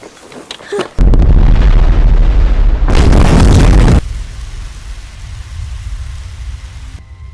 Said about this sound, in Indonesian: Tapi di sana juga ada satu granat yang siap meledak.